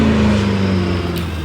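A modified BMW G80 M3 rolls up with a steady, deep engine drone that stays loud and even throughout, with no talking over it.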